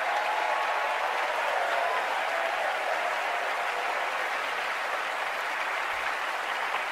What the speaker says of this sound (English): Please send a round of applause to the actors and crew members of Parasite.